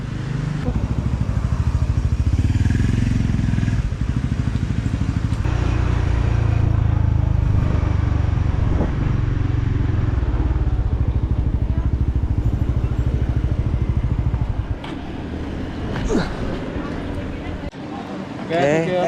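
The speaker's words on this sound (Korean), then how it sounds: "지금 그랩 오토바이 불렀고요. 아 저기 온다" A motorcycle taxi engine idles and revs close by amid street noise at a market in Nha Trang, then the motor cuts off near the end.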